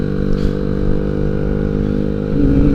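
Old Honda Vario 125 scooter engine running low on oil, a steady close idle hum with a slight rise in pitch near the end, no one talking.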